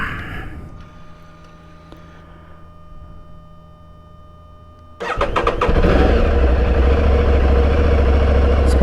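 Aprilia Tuareg 660 motorcycle after its first off-road ride: a quiet low hum, then the starter cranks and the engine fires, settling into a loud, close, steady idle.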